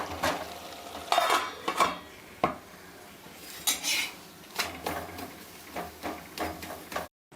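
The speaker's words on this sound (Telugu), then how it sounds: "ఇదిగోండి రెండోది కూడా వేసేసి కాల్చేస్తున్నాను. ఒకసారి మళ్ళీ తిరిగేద్దాము." Moringa leaf roti frying on a pan alongside a simmering curry, with sharp scrapes and clinks of a utensil as the flatbread is flipped and pressed, over a soft background sizzle.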